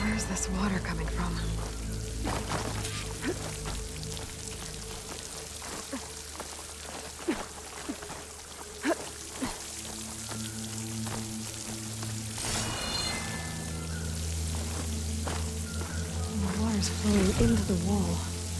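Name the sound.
flowing water near a waterfall in video game Horizon Forbidden West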